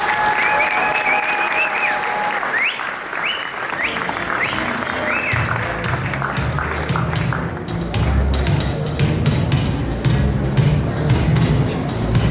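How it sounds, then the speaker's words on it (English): A crowd at a business-award event applauds William Benson, a steady, loud wash of clapping that runs the whole time, with a few whistles early on and some cheering mixed in. "Y'all give it up for William Benson."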